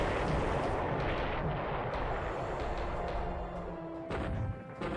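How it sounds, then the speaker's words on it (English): Anti-aircraft flak in the War in the Pacific strategy game, a dense, rumbling barrage of booming gunfire and explosions that stays loud and continuous, then thins toward the end with a few sharper bursts. "American flak is pretty damn deadly"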